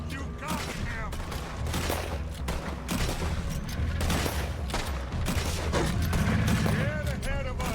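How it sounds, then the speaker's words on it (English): Gunfire in the Western video game Red Dead Redemption 2 rings out in a dense, continuous volley of shots layered over game music and background effects, with voices talking throughout. "Put every bullet you got in him!"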